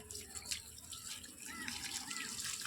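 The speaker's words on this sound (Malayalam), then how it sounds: "നനച്ചു കൊടുക്കാണ്." Water poured onto garden plants, a continuous soft splashing and trickling stream, fairly faint and steady with slight swells toward the end.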